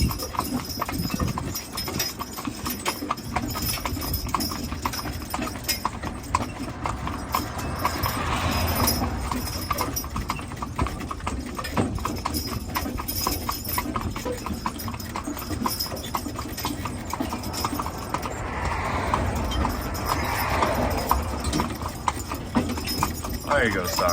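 Hooves of young horses clip-clop steadily on a ride out, close and continuous under a voice talking throughout, with a dog faintly audible at times.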